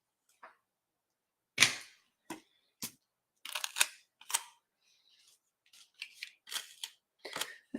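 Scissors snip a piece of clear adhesive tape in a quiet room, a series of short crisp cuts and crinkling taps spaced irregularly, close and fairly faint.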